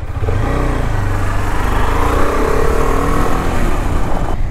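A motorcycle engine with a freshly fitted chain and sprocket runs loudly and close by, holding a steady rough idle with a slight rise in revs partway through, and no one speaks over it.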